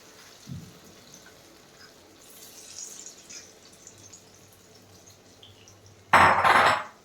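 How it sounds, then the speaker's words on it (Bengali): Dry chana dal poured into a cooking pot for a Bengali dhokar dalna, heard as a short, loud, dense rattling rush near the end after a long quiet stretch of faint kitchen background. "এর মধ্যে আমি ছোলার ডালটা ঢেলে দিলাম"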